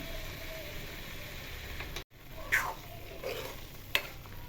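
A red date (kharek) and milk mixture with added food colour being stirred in a pan, with a low sizzle and a few sharp spoon scrapes against the metal, close and fairly faint, with a brief dropout partway through.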